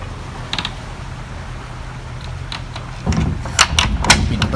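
A door at a shrine at Khao Laem Sing, Chanthaburi, Thailand, closes with a creaking, clicking mechanism, a few light ticks followed by louder grinding creaks and clunks toward the end, heard close.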